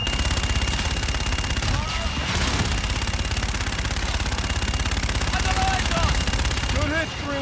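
Sustained rapid gunfire from Call of Duty Infinite Warfare, a dense unbroken automatic barrage, loud throughout with voices under it.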